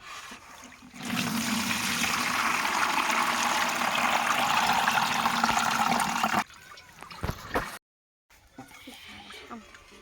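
Soaked rice tipped from a bowl onto a clean cloth, water pouring and trickling through into the bowl below in a steady rush for several seconds, then a few softer drips and handling noises.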